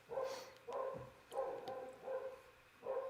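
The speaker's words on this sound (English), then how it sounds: "While the dogs are going crazy" Dogs bark in a steady series of about six evenly spaced barks, fairly faint and somewhat distant, with no talking over them.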